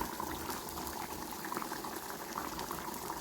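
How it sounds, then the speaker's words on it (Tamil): Kuzhambu curry, a Tamil tamarind gravy, boiling in a pot on the stove, with steady bubbling and popping throughout at close range and no talk. "நம்மளோட குழம்பும் நல்லா கொதிச்சுட்டு"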